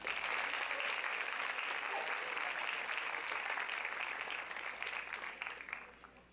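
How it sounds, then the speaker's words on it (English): A school awards assembly audience applauds steadily, a dense wash of many hands clapping that holds for several seconds before gradually easing off. "Can we give these girls a round of applause?"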